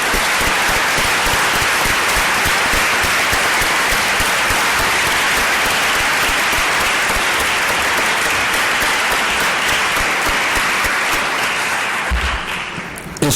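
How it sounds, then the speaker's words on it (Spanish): Dense, loud applause from a seated audience at a Catalan-language education and psychology conference, a steady wash of many clapping hands for over twelve seconds before tapering off at the end. "un aplaudiment per a Gaspar Izquierdo."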